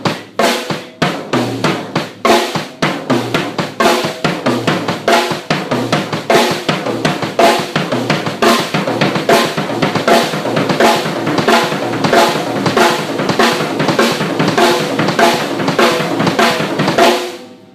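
Fast sextuplet drum fills with single-stroke rolls moving across the toms, rapid alternating hits repeated in dense bursts alongside cymbals, loud and continuous with no talking.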